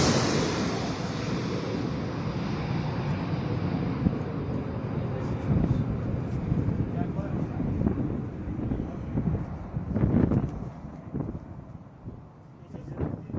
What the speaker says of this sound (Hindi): यहां पर सुखोई, मिराज, तेजस, साथ ही साथ जगुआर के 9 फाइटर जेट जो है वो टेक ऑफ और लैंडिंग का प्रदर्शन कर रहे हैं।